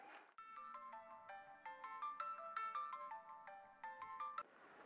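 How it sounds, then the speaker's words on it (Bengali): A phone ringtone plays a bright electronic melody of repeated short notes, clear and steady for several seconds, then stops abruptly. "কেডাই ফোন দিছে?"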